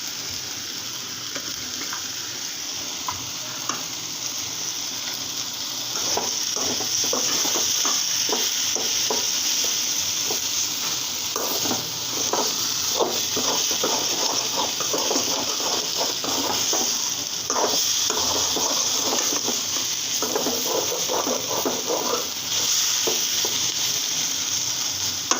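Fenugreek greens stir-fried in a pan with chopped coriander and dried chili, heard as a steady close sizzle with rapid, irregular scraping strokes of a spatula running throughout.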